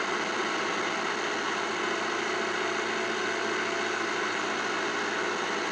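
A simulated Cessna TR182 engine in a Redbird TD2 flight simulator drones as a steady, even hum at moderate volume throughout, with no talking.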